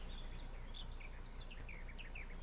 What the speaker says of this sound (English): Let me turn the birds and stuff down because they're screaming at me